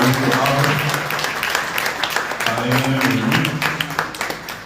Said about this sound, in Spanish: darle un fuerte aplauso a don Gregorio